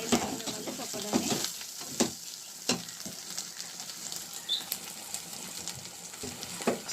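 Pakoda pulusu masala fries in oil in a pan with a steady sizzle, broken by repeated sharp scrapes and clinks of stirring, close and moderately loud, with no talking.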